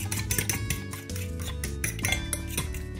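Eggs seasoned with salt and pepper are whisked in a bowl, making rapid, rhythmic clinks and taps of a utensil against the dish, close and steady for a few seconds with a brief pause, with no talk.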